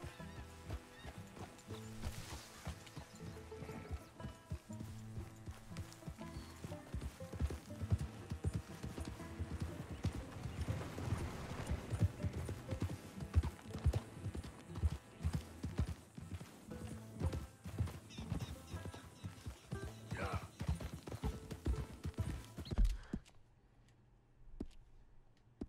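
Horse hooves clip-clopping steadily in Red Dead Redemption 2 while a rider crosses the land, a rhythmic galloping beat under game music that stops abruptly near the end.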